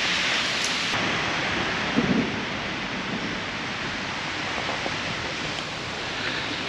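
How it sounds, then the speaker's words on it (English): Heavy rain pours steadily outdoors on a street in Augsburg, Germany, a dense continuous hiss with a low rumble of thunder rolling through early on and no voices. "Thunder, massive rain."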